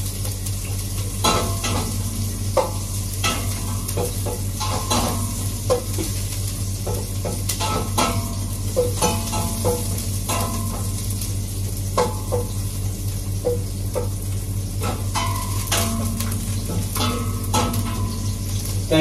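Onions and garlic frying in oil, a continuous close sizzle broken by frequent scraping and clinking of a utensil stirring against the pan, no voices.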